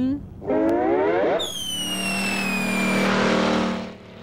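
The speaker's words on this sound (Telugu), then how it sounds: "కారు వెళ్ళిపోతుంది, త్వరగా మోటు." A cartoon car speeds away in a short burst of zooming engine tone with a rising whine, loud and close, backed by bright sustained musical tones.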